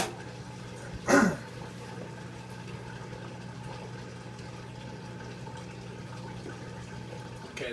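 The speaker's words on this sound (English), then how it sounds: "We'll put this on spin so we can just drain the water that's coming out." A Maytag Neptune washer drains water on its spin cycle with a steady, moderately loud low pump hum, broken by one short splashing burst near the start.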